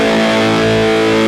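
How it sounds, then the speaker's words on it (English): Electric guitar run through a distortion pedal after the amp and cab models on a Line 6 HX Stomp, giving a loud, sustained, buzzy overdriven tone that rings out alone for over a second. "I was putting the distortion pedal next to it, and I was getting equivalent to this sound"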